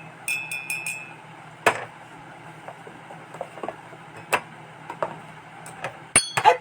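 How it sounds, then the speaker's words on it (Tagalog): Genuine crystal glassware, sold cheaply, tapped several times, giving sharp bright clinks with short ringing tails, spaced irregularly and standing clearly above a quiet room background. "Alam niyo yung tunog ng crystals"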